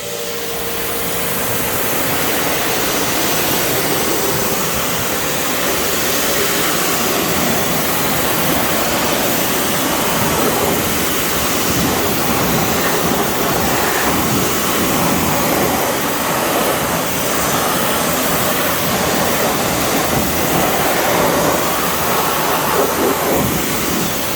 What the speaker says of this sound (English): But after it dwells, all I do is rinse it off.